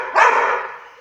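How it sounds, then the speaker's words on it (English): A black dog barks once at close range indoors in a home, a loud sharp bark whose tail fades over about a second, with no talking. "Barking."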